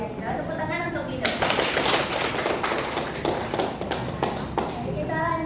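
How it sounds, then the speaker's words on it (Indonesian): A classroom audience of students claps for a student, a dense burst of hand claps starting after a second and lasting about three seconds, then fading out, with voices around it. "Tepuk tangan untuk Ridho."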